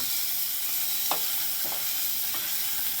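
Steady hiss of tomato frying in a pan, with a few soft stirring scrapes.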